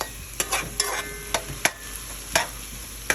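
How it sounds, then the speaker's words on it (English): Sweet pepper, onion, scallion and thyme sauté in a pan with a steady close sizzle, punctuated by sharp stirring clacks of a utensil every half second or so, with no talking. "I like to saute the veggie before I put the fish in"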